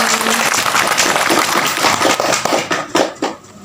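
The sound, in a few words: clapping after a game in a podcast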